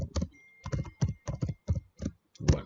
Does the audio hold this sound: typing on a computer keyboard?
yes